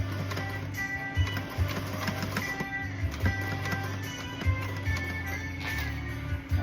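Sewing machine running a tight zigzag stitch back and forth over a DIY gift, a steady mechanical whir broken by short pauses and thumps where the stitching reverses, close and fairly loud.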